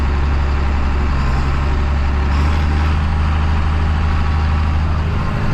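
Heavy truck engine with a quad-range 15-speed powershift transmission, running as a steady, loud, low rumble that shifts tone slightly partway through, with no voices.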